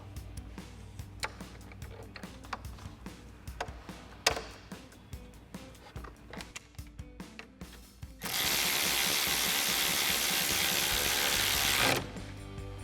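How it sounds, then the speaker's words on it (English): A ratchet turns a 13mm socket on a radiator mount bolt of an EcoBoost F-150, clicking in short irregular strokes. A steady loud mechanical whir follows near the end. "We're going to be using a 13mm socket and a ratchet."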